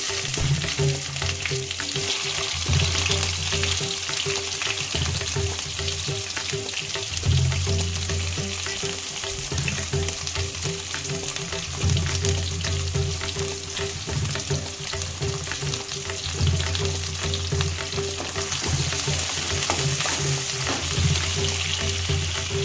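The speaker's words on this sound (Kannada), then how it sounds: "ಚಟ್ಪಟ ಅಂತ ಸಿಡಿದ್ರೆ ಉಳ್ಳಗಡ್ಡೆ ಹಾಕ್ತೀನಿ." Onion hitting hot oil in a pan for a dal khichdi, a steady dense sizzle and spluttering crackle running unbroken and fairly loud throughout, with a low steady hum beneath and no voices.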